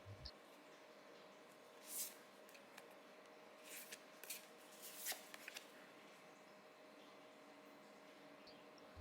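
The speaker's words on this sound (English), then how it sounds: "I'm gonna shuffle the cards until I feel the deck is ready" Quiet, close card shuffling with soft riffles and sharper snaps of the deck at irregular moments over a faint background hiss.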